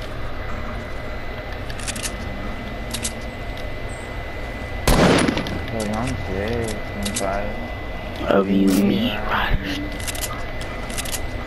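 Minigun fire in Fortnite sounds as two loud rapid bursts, the second longer, with someone talking across the clip.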